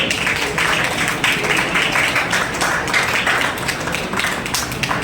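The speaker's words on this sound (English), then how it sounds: "Let us give them all a thunderous round of applause once." A ceremony audience gives sustained applause to honour 10th and 12th class toppers, a dense, even wash of clapping that stays steady and loud throughout.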